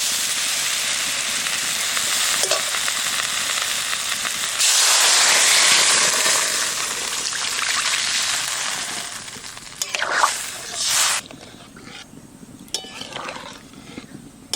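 Water poured into a pan of turmeric, salt, dried chilli and ginger masala in a village kitchen sets off a loud, rushing hiss that surges, then fades into bubbling with a few clatters.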